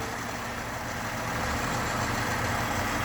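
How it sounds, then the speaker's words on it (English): 2018 Jeep Grand Cherokee engine idling, a steady, even hum with a broad hiss, heard close and alone for a few seconds. "Okay, with the motor running."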